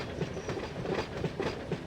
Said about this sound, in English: You pull the whole train out.